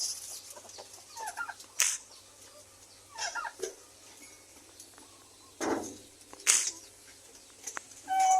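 A mother hen calls out in short, separated clucking bursts: four or five distinct calls spread across the stretch, heard close by against a quiet farmyard background.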